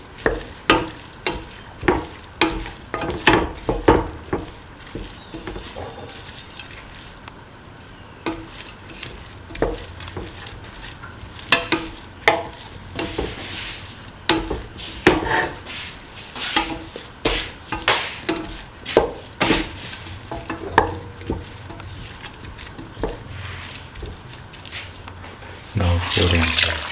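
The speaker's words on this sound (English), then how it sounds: "Thoroughly saute and mix." Lentil, winter melon and coconut stew mixture is sautéed and stirred in a pan, repeated scraping spoon strokes over a soft sizzle, with a louder burst of sizzling at the end.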